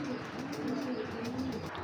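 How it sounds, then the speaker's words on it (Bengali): Giribaz pigeons in a cage coo in soft repeated low calls, close by, over a faint background hum, with no one speaking. "দেখেন দুইটা কবুতর পাখা মাশাআল্লাহ, অল টাইম একটা ভাইব, মানে খাঁচা পুরা কাঁপায় ফেলে এরকম কবুতর।"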